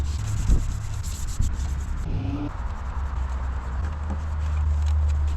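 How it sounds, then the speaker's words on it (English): Steady rubbing on a Harley-Davidson gauge housing (the pod for oil pressure, oil temperature and volts gauges) being polished by hand, a close, continuous scrubbing texture with a few soft knocks. "I ended up just polishing it."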